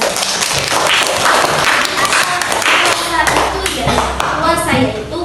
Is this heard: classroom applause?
yes